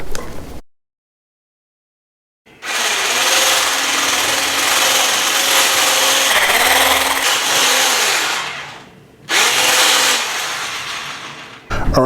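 A mixer beating powdered sugar into cake frosting, whirring loudly and steadily in two long runs separated by short pauses, with a brief silence near the start.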